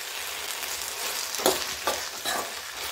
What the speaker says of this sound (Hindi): अब इनको अच्छे से मिक्स कर लेते हैं